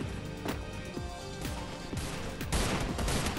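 Gunfire in the mobile battle royale game Free Fire during a ranked team match: a string of sharp, close single shots and bursts, loud and irregular, with no speech over them.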